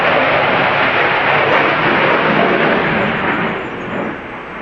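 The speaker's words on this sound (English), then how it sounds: "we've got aeroplanes" Aeroplanes fly overhead, producing a loud, continuous broadband roar that holds steady for several seconds before easing slightly toward the end.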